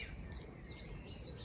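Early morning birdsong beside a narrowboat, faint high chirps and warbling trills from birds at a distance over a low steady background hum, with no one speaking.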